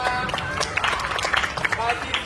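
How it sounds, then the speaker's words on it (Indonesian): A group of participants claps hands in quick, uneven bursts during an outdoor running exercise, with voices talking over the clapping. "Tepuk tangan untuk kelompok 3."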